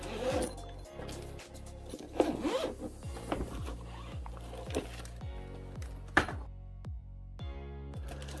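A zipper on a massage gun carrying case is pulled in a series of quick, rhythmic rasps, close and clear, with a few soft thumps of the case being handled.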